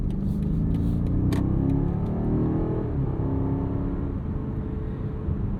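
A 2023 BMW 760i xDrive with a V8 pulls away from a stop, heard from inside the cabin as a dense, steady low engine rumble with road noise that stays even and smooth across the run.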